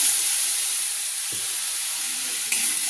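Masala with a splash of water and tomato sizzles and fries in a pan, a steady close hiss with a faint stir or scrape now and then.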